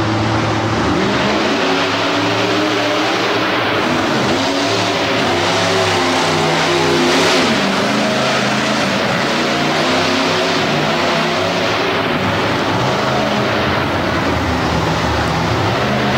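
A monster truck runs a race at a monster truck event with a steady, loud engine roar and shifting revs that fill the whole stretch. No voices are heard.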